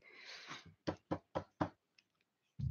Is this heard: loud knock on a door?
yes